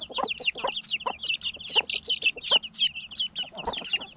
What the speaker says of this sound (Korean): 캔디와 병아리들의 뜨거운 반응을 보면 녀석들이 얼마나 노른자를 좋아하는지 잘 알 수 있다.